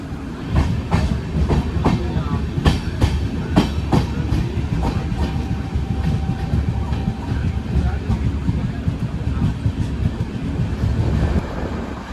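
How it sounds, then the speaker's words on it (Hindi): Passenger train from Chittorgarh to Jaipur pulling away and rolling along the rails, loud steady rumble with repeated clickety-clack wheel knocks and wind buffeting, heard from on board. "तो उसके आते ही हमारे ट्रेन को भी डिपार्चर का सिग्नल मिल गया।"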